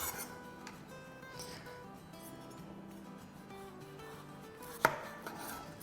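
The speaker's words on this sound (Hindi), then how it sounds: "ये कैरी लिए और इसका इस तरह से काट लेंगे।" A knife cuts through a raw green mango, a soft scraping that ends in one sharp, close knock on the board, over a faint tonal background hum; nobody speaks.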